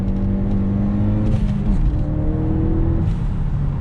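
An all-stock 1994 Honda Accord engine gives a brief rev that rises and falls over a steady, close running drone, with no talk over it.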